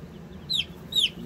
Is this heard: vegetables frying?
no